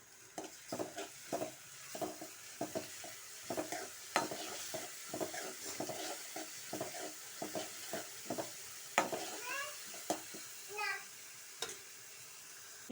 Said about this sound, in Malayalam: ഇനി ഇളക്കി കൊടുക്കാം.